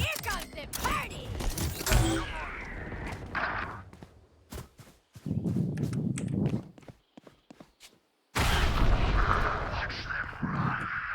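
A grenade goes off in the tactical shooter Valorant, a loud, sudden blast near the end that follows scattered sharp impacts, footsteps and gunfire, with a voice heard early on.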